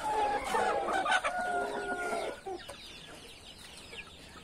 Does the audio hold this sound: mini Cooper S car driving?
no